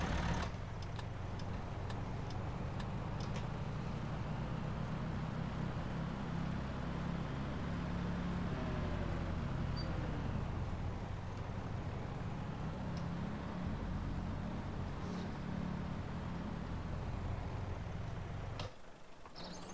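Tractor engine in Farming Simulator 2017, a steady low rumbling drone with a faint ticking rhythm on top, continuous and even before cutting off near the end.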